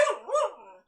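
A single short dog bark rings out close by, clear and alone, fading quickly.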